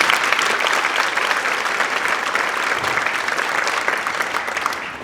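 Audience at a southern band winter concert applauds the production crew in a dense, steady wash of clapping that stays loud and even throughout before easing slightly at the end.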